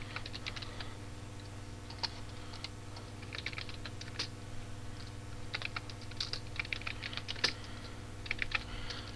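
Keys clatter on a computer keyboard in quick irregular bursts and pauses, close and soft over a low steady hum, with no talking.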